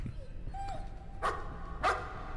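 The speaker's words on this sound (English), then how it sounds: "Oh, it's a dog!" A dog in the video game Layers of Fear gives two sharp, fairly loud barks about half a second apart, following a faint whimper, over a low ambient hum.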